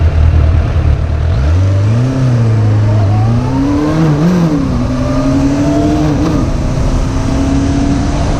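A Suzuki GSF600 motorcycle engine revs on a ride, rising from a low idle-like drone into a steady higher pitch near 5,000 RPM, loud and close with wind rush, holding with small wavers.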